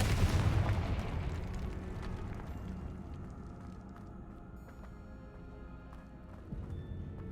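The Confringo fire spell from Hogwarts Legacy goes off in a loud, deep explosive boom that rumbles and slowly fades over several seconds, with faint crackles trailing behind.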